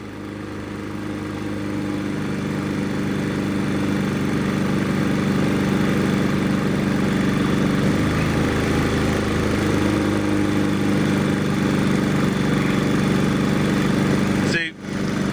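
A Predator 3500 inverter generator engine runs steadily at a constant, even drone with a hum, close and loud for the whole stretch, dipping briefly right near the end; nobody speaks.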